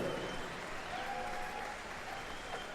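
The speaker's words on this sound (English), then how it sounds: "How about a round of applause?" Faint, distant audience applause at the 2018 Gathering of Nations powwow for a heart transplant recipient, a continuous wash of clapping in a large venue with a few voices faintly underneath.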